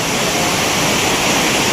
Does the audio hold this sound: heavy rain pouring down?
yes